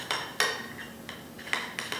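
A spoon or whisk mixes cream cheese powder with water in a bowl, making a run of light clinks and scrapes against the bowl at an uneven pace, close and without speech.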